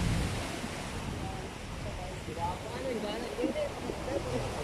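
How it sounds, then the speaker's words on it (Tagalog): Strong sea waves roll and crash at Bangui, Ilocos Norte, making a continuous broadband roar with wind noise on the microphone and faint voices in the background. "Yan magandang lakas ng alon ng tubig."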